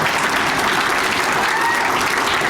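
An audience at an Arab American forum in Bridgeview bursts into applause, a dense, loud wash of many hands clapping steadily throughout the short moment, with no talk over it.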